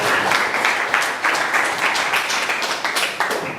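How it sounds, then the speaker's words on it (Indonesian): An audience in an Indonesian classroom lesson applauds, a dense, loud burst of many hands clapping continuously and close by, with no voices over it. "Oke, beri tepuk tangan buat Arjun."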